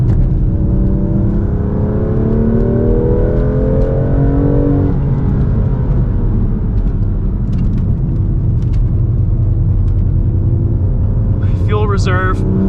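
A 2021 BMW M2 Competition with a manual gearbox drones loudly on track from inside the cabin, engine note rising and falling through revs, with a voice speaking over it and a brief shift-like blip near the end.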